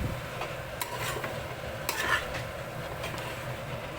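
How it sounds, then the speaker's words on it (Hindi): Capsicum sizzles in a frying pan while a utensil stirs and scrapes, with occasional clinks against the metal. "यहाँ मैंने शिमला मिर्च डाल दी है।"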